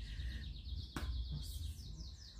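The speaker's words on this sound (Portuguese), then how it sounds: "me desculpe pelo barulho do passarinho" A small bird chirps in a repeated series of short high notes, fairly close, over a low background rumble, with a sharp click partway through.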